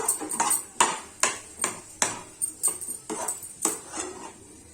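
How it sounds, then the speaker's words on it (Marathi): Cooked bhagar (barnyard millet) with jaggery is stirred in a metal pot. A steady rhythm of about a dozen scraping strokes, each with a light metallic clink, is heard close up with no voices. "असं हलवून घ्यायचं एकजीव चांगलं"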